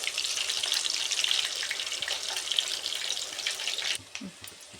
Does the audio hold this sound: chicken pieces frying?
yes